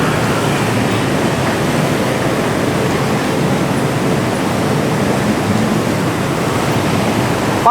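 Black, foamy water of the Kali Bekasi river rushes through a floodgate in a loud, steady roar that stays broad and unbroken throughout, close at hand and with no voices.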